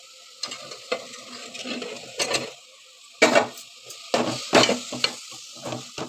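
Okra pieces, fried with salt, chili powder and turmeric, sizzling in a pan while a spoon scrapes and stirs in irregular bursts, close and fairly loud.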